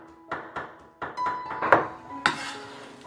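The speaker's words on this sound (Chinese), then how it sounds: "先切小块，再剁碎。" Chicken breast chopped with a cleaver on a board, a handful of separate sharp thunks spaced irregularly, with a bright metallic clink among them, close and moderately loud against a quiet kitchen.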